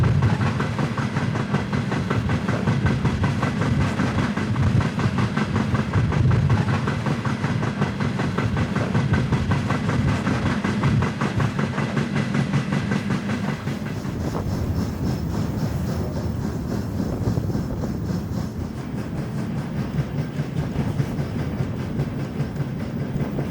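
A train rolls past during a rail journey across Kazakhstan, a steady loud rumble with rhythmic clickety-clack of wheels over the rails and a faint hiss, continuous and close throughout with no talking.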